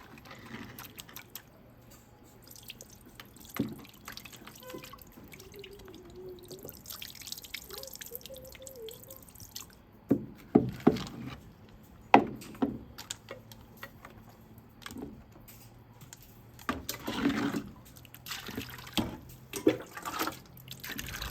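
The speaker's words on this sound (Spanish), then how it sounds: "El sonido del agüita es tranquilizador." Mountain spring water drips steadily into a vessel where cacao beans soak before roasting, with irregular close taps and plinks over a quiet outdoor background, some louder drops in the second half.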